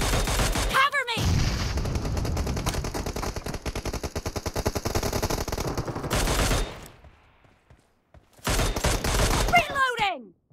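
Rapid single-tap Mini-14 rifle fire in a video game team deathmatch, a dense run of close, loud shots followed by a pause, then another burst, with in-game voice callouts.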